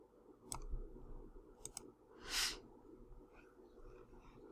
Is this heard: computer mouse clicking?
yes